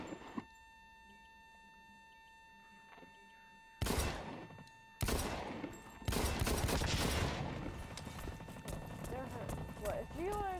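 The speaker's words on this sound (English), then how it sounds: "I'm gonna use my pistol" Pistol fire in the shooter game Blacklight: Retribution comes as sharp, loud cracks, with several separate shots followed by a denser run of firing and clatter, mixed with game effects and a player talking.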